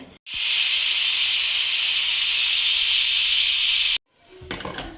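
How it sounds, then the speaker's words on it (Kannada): A pressure cooker with sprouted bean sambar inside releases a loud, steady hiss of steam for nearly four seconds, close and continuous, then cuts off sharply. Faint kitchen noise follows. "ಸೊ ಈಗ ಲಿಡ್ ಕ್ಲೋಸ್ ಮಾಡಿ 2 ವಿಷಲ್ ಕೂಗಿಸಿದ್ರೆ ಸೊ ಮೊಳಕೆ ಕಾಳು ಸಾಂಬಾರು ರೆಡಿ ಆಗುತ್ತೆ."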